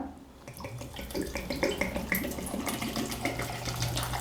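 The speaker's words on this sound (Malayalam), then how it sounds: "ഇനി ഇതിലേക്ക് നമുക്ക് ആവശ്യത്തിനുള്ള ഐസ് വാട്ടർ കൂടി ചേർക്കാം." Ice water poured over blended cucumber for cucumber juice, a steady splashing pour that runs continuously and close by, without any talk.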